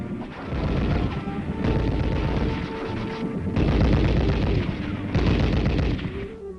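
A 4.2 mortar fires repeatedly during army training practice, heavy booming blasts in a steady series with rolling echoes that overlap into a continuous loud rumble, with no voices.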